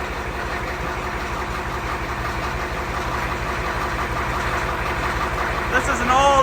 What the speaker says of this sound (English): This is an old IDI diesel motor. We've got a full tank of motor oil.